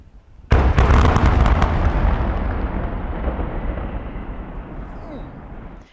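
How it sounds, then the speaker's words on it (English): Explosive demolition of an old, unused coker and cracker at a former refinery site: one sudden, loud blast followed by a long, rolling rumble of collapsing structures that slowly fades over several seconds. "Using explosives, the 2 structures were brought down within seconds."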